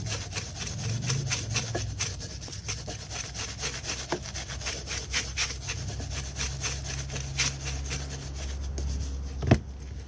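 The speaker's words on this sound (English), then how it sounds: "you want to wire brush the surface on both sides" Wire brush scrubbed by hand over a rusty brake caliper bracket on a 2017 Honda Accord, rapid rhythmic rasping strokes, close and continuous throughout.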